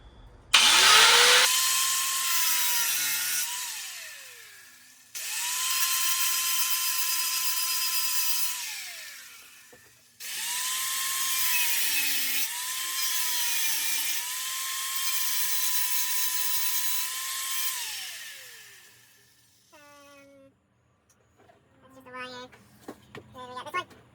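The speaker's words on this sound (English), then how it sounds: "Just a couple screw heads to grind off real quick" An angle grinder cuts off screw heads on a vehicle, throwing sparks, in three long whining passes that each spin up, hold steady and wind down, followed by a few short bursts and clatter.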